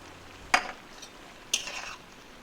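Cashew paste being stirred into chicken curry in a pan: two distinct scraping strokes of a spoon about a second apart, close and clear over a quiet background.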